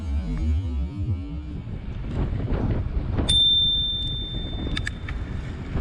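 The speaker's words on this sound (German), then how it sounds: "Eine gute Klingel hört man schon vom Weiten." A single bright bicycle bell ring sounds mid-clip on a city street in Munich, followed by a couple of faint short dings, over steady wind and traffic rumble while cycling.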